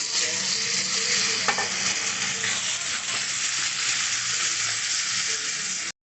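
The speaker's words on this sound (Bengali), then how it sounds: "ভালো করে টমেটোর সঙ্গে পেঁয়াজটাকে ভালো করে ভেজে নিয়েছি।" Onion and chopped tomato frying in oil while being stirred, giving a loud, steady sizzle with occasional scraping strokes, close and unbroken until it cuts off.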